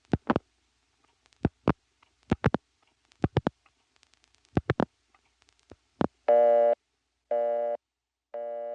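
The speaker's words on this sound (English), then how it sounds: "I'll be interrupted by a busy signal at some point in the dialing" Rotary-style dial clicks in short bursts on a 1977 step-by-step telephone exchange, followed by three evenly spaced buzzing busy-signal tones.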